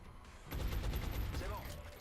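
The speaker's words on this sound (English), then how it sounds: "Suppressing fire on target" Suppressing gunfire in XCOM Long War: a sustained rattling burst of automatic fire starts abruptly and runs for over a second at moderate volume, tapering off, with a voice speaking around it.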